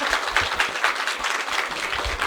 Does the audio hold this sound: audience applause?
yes